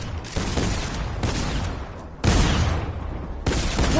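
Gunfire in a shooting video game sounds in loud bursts of rapid shots, several separate volleys with brief gaps between them, close and harsh.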